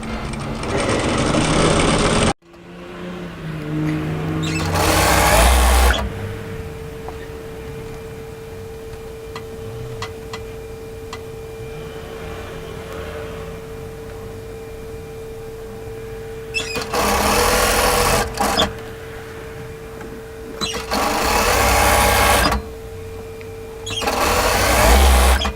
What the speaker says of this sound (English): all we're going to do is sew this directly through our overlocking line